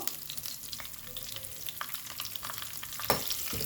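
Crushed onion and dried red chillies frying in a pan, a steady close crackling sizzle with soft stirring scrapes throughout and a brief louder burst of spatter near the end.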